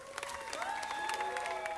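Applause from the audience at a city council meeting, a steady crackle of clapping with a faint tonal whistle running through it, sustained for a couple of seconds.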